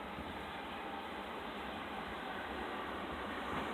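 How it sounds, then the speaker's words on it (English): A TfL Rail Class 345 electric train passing through Romford station, a steady, loud broadband rumble and rush that swells slightly toward the end, with no talking over it. "Yeah, that's a 345. It's a 345. Yep, TFL Rail 345."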